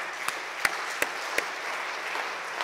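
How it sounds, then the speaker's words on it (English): Sparse applause from a worship service congregation, a handful of distinct, fairly loud claps at uneven intervals over a quiet room tone, fading out after a few seconds. "And give yourself a round of applause."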